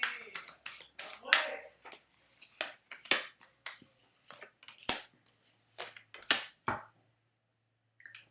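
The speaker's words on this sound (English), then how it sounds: "I'm going to pull additional clarification cards for you" Tarot cards being drawn and handled for a reading, giving a run of short, crisp slaps, snaps and rustles at close range in irregular bursts, then a near-silent stretch at the end.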